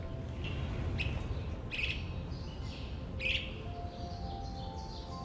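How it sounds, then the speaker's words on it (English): A red-eyed vireo sings a few short, high chirping phrases at a moderate distance in Central Park, spaced a second or so apart over a steady outdoor background hiss. "It was just a red-eyed Vireo singing up this way."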